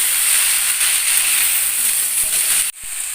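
Vegetables frying with spices in a hot pan, a loud, steady sizzling hiss close up that cuts off sharply near the end and then resumes more quietly.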